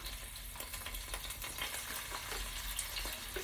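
Garlic, about two teaspoons, frying in a pan beside salmon, giving a steady close crackling sizzle with faint stirring clicks throughout and no talking.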